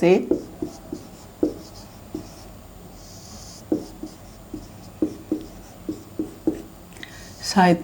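Pen strokes scratch across paper in a steady run of short, distinct bursts, close and clear, while a Sanskrit grammar definition is written out by hand, with a quiet voice speaking faintly underneath.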